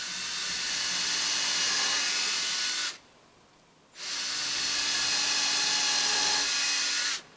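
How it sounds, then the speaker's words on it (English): A handheld drill boring into a piece of wood raised on wooden blocks: two sustained bursts of high whirring, each about three seconds long, separated by a short pause, close and steady. "so that when I drill, I'm not drilling into my bench"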